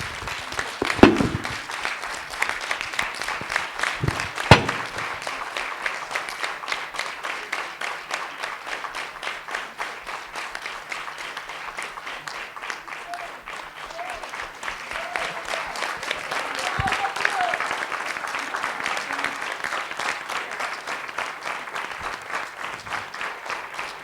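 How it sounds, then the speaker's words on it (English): Audience on its feet giving a standing ovation at a talk event, a sustained wash of clapping that swells and continues for over twenty seconds, with a few louder nearby claps and bumps. "Can I please request all floor members to stand up and give you all a standing ovation,"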